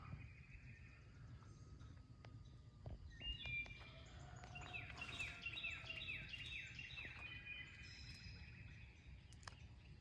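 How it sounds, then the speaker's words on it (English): A wood thrush sings clear, flutey phrases in the background, repeated at intervals over a steady low rumble of outdoor noise in a garden. "You can hear in the background one of my favorite birds. It's the wood thrush."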